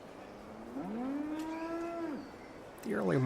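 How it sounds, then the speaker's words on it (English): Brahmin cattle on a ranch give one long, drawn-out low moo, followed by the start of a second call, fairly close and clear against a quiet background. "The ranch hands of the Blue Ridge caravan were busy getting the Brahmin up, fed, and loaded"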